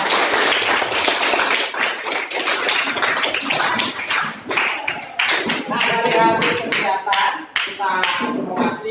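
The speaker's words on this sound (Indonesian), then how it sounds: "Tepuk tangan semuanya." A classroom of students claps together during a lesson, a burst of brisk, somewhat uneven hand claps that turns into looser, sparser clapping with some shuffling.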